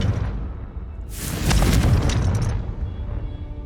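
The Confringo explosive spell goes off in the wizarding action game Hogwarts Legacy, a loud whooshing blast that swells into a roaring, crackling explosion lasting over a second before fading into a low rumble.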